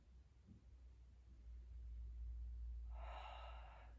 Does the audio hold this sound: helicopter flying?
no